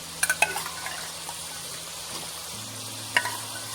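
Hog plums (amra) frying in a pan for a tomato chutney, a soft steady sizzle with a few sharp utensil clinks near the start and once more later, no talking.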